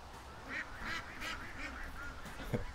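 Several ducks quack in loose, repeated bursts at moderate distance over a soft background hiss, with one sharper call near the end.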